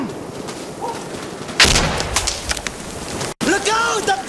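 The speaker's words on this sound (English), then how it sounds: "Look out! I'm throwing a grenade!" A grenade goes off in a pistol-only brawl on a power plant map in a video game, a sudden loud blast followed by crackling debris and gunfire, with voices talking nearby.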